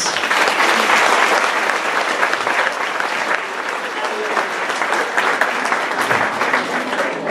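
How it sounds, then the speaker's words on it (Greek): Loud, sustained applause from a crowd at a charity event, dense clapping that continues evenly throughout with slight swells. "θα ήθελα ένα θερμό χειροκρότημα για τα παιδιά, για τους φιλοξενούμενούς μας"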